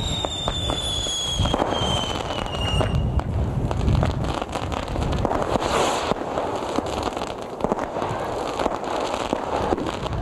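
Fireworks crackle loudly and continuously at a millennium celebration held at a school in Bosund, Larsmo, in January 2000, with a dense rapid popping texture and a few whistling rockets near the start.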